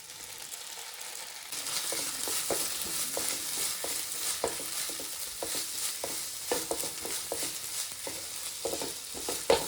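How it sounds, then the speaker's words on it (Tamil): Onions sautéing in a pan for squid masala fry, a hissing sizzle that swells in after a quiet start, broken by frequent clattering stirs of a utensil against the pan, nearby and without speech. "வெங்காயம் கொஞ்சம் நேரம் குக் பண்ணிட்டேன்"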